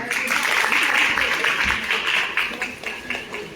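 An audience applauds at a stage music event, with dense, steady clapping that fills the whole stretch and a voice speaking over it.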